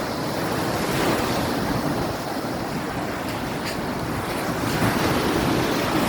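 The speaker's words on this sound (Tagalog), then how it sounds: "ang lalaki ng alon na yun" Loud, continuous roar of large surf with waves crashing, mixed with gusty wind buffeting the microphone, on a beach after Typhoon Tino.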